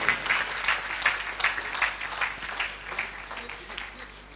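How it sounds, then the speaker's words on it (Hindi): An audience applauds performers after a stage show, steady clapping from a moderate crowd, fairly close and even, with a few louder waves through the stretch. "इन सब के लिए जोरदार तालियां बजा दीजिए"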